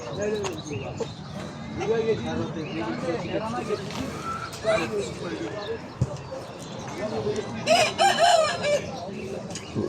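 Roosters and hens at a busy Edirnekapı poultry market in Istanbul, with a rooster crowing amid clucking and the steady chatter of people talking all around.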